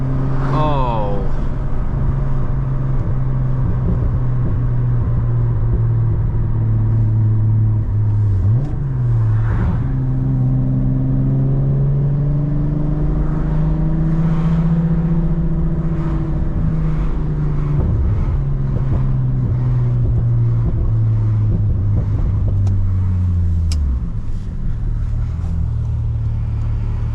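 A 1994 Volkswagen Corrado SLC with its VR6 engine, heard from inside while driving, holds a steady drone, then rises and falls in pitch through several shifts, loud and up close.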